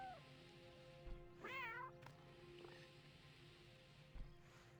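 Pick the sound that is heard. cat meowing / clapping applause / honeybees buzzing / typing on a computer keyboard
cat meowing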